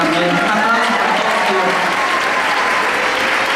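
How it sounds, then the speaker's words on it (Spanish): Theatre audience clapping during the curtain-call thanks for a stage musical, loud and continuous, with cheering and voices mixed into the dense applause throughout. "aplauso para todos"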